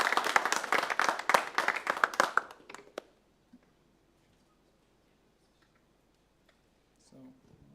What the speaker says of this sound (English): Yeah, round of applause, please.